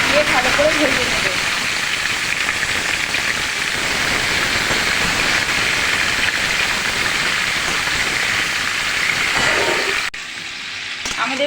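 Panch phoron spices fry in hot oil for a vegetarian mixed-vegetable curry, a dense, loud, continuous sizzle crackling for about ten seconds before it abruptly drops away.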